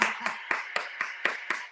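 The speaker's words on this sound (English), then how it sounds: "Round of applause for the so-called friends." Sharp, evenly spaced claps ring out about four per second, a single close rhythmic clapping pattern rather than a full crowd, fairly quiet and alone.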